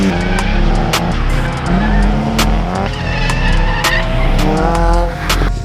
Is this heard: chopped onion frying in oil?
no